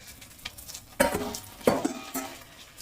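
A little water added to broccoli frying in a pan, bursts of sizzling and stirring scrapes, a few sharp surges of hissing over a low background crackle; no talking.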